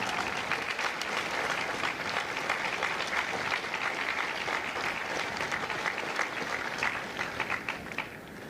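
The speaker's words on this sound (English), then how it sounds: "please join me in a round of applause for the officers, the drill instructors, and the families of Company L." A crowd of families and guests at a Marine Corps recruit graduation gives sustained applause that holds steady for several seconds, broad and continuous, then tapers slightly near the end.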